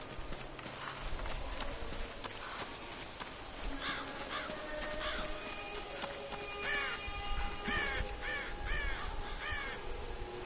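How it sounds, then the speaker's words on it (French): Crows in the Tomb Raider video game give repeated harsh caws in a rapid series, fairly close and prominent over game ambience with rustling and clattering sounds. "Ces oiseaux là, on peut les zinguer?"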